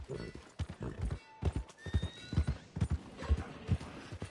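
Horse hooves clip-clop in an irregular rhythm from a horse in Red Dead Redemption 2, with a high whinny rising over the steps partway through.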